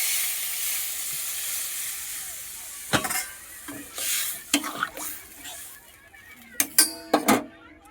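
Spice paste for hilsa curry with green banana fries in a pan, with a soft continuous sizzle as a spoon stirs it and scrapes and taps against the pan in irregular bursts.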